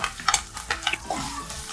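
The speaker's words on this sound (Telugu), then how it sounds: "ఇంగువ, కరివేపాకు, అలాగే పసుపు ఇవన్నీ వేసేసి కాసేపు వీటిని దోరగా వేయించుకుందాం." A tempering of crushed garlic, asafoetida, curry leaves and turmeric fries in a pan, lively close sizzling broken by several quick stirring scrapes.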